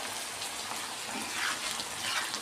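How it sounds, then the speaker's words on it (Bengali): Water poured into a pan of cooked-down spiced tomato and capsicum for a paneer curry, giving a steady, soft splashing rush that holds throughout without any voices. "মশলা ধোয়া জলটা আমি অ্যাড করে দিলাম"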